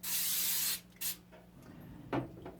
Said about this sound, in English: A little bit of coconut spray to help any stickage.